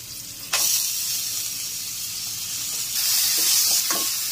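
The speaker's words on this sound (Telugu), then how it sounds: "ఆ పెసరపప్పు వేసుకొని ఇప్పుడు ఆయిల్లో బాగా వేపుకుందాం." Soaked moong dal tipped into hot oil for an onion stalk curry, a sudden burst of bright sizzling that settles into a steady hiss, with occasional stirring clinks near the end.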